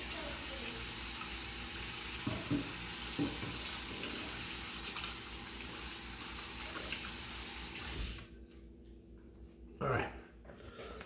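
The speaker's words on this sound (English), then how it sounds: "Wash my hands again, and we'll get going." A kitchen tap runs steadily for hand washing before cooking sliders. The water hisses at moderate level, with a few clinks and a faint voice, then cuts off near the end, leaving quiet room noise and one brief knock.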